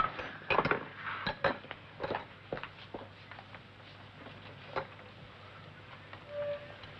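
A plate set down on a table among light dishes and cutlery clinking in a home dining room, several sharp clatters early on and then sparser taps, close and fairly quiet.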